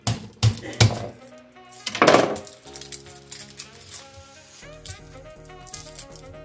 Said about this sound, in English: So I'm going to peel my garlic. I have 2 nice sized pieces of garlic here. Okay. I'm going to crush them